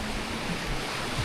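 Ocean waves at high tide along a provincial shore, a continuous rushing wash of surf at moderate loudness with no voices.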